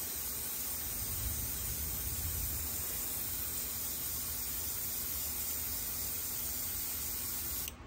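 Airbrush or spray gun laying a wet coat of mixed paint onto a custom fishing lure, a steady close hiss that runs unbroken for nearly eight seconds before cutting off at the end.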